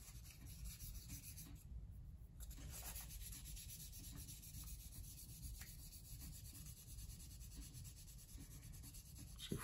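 Georg Jensen silver is rubbed with 800 grit abrasive to remove oxidation, giving a steady, close, soft scratchy sanding sound that runs without a break through the whole clip.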